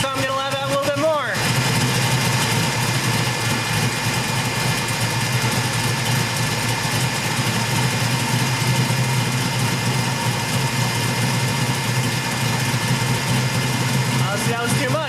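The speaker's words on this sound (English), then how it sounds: "I pivoted the screw to the right, and that starved the engine, so I'm gonna let it have a little bit more." A Chevrolet 454 big block V8 idles steadily during carburetor and timing adjustment, a loud, even rumble close by that holds throughout after a brief revving change at the start, with someone talking over it.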